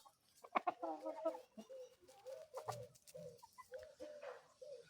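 Young roosters make short, cracking attempts at crowing and clucking, fairly faint and close, several calls in a row.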